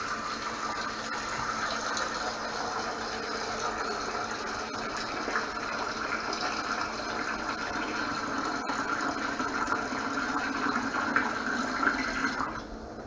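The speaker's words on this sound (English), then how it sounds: "try and put some water in there as quickly as possible" Tap water gushes steadily into a pan crusted with cheesy pasta at a kitchen sink, a continuous close rushing fill that runs for the whole stretch before easing off at the end.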